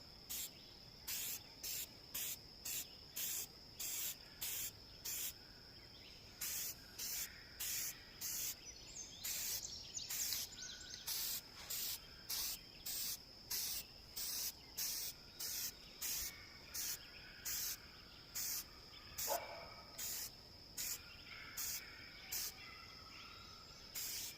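An aerosol can sprays a light coat of white paint onto a steel shooting target in short, evenly spaced hissing bursts, faint and regular, with no talk.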